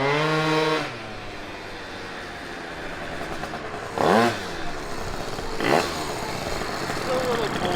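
A cold Honda Elite SB50 scooter engine idles while warming up, a steady buzzing putter with a couple of brief louder revs, as people talk nearby.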